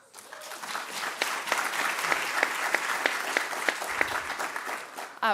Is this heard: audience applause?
yes